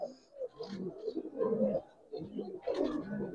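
Giribaz pigeons coo in soft, overlapping throaty phrases close by, a short run of low rolling calls with brief pauses between.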